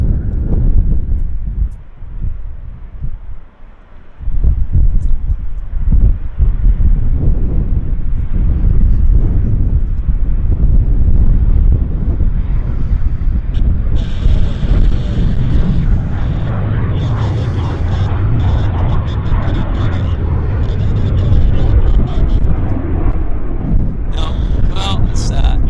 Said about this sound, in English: We got another BizJet though. Taking off first.